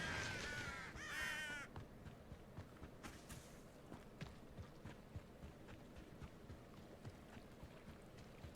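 Crows caw loudly a few times in Hogwarts Legacy at the start, then give way to a steady run of soft footsteps with faint water-like ambience underneath.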